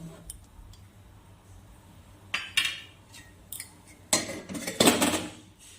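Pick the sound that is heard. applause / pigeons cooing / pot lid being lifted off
pot lid being lifted off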